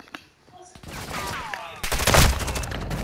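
Rapid gunfire in Call of Duty: Modern Warfare II, with bursts and volleys that start sparse, then grow dense and loud in the second half, mixed with game effects.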